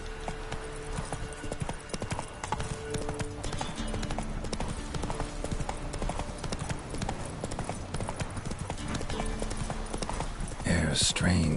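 Hooves of the horse Roach clip-clop steadily at a gallop in The Witcher 3, a continuous close rhythmic beat under game music and ambience, with a brief louder burst near the end.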